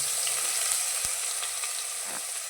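Onion fries in a pan with a steady, dense sizzle that stays close and loud throughout, broken by a single sharp tap near the middle.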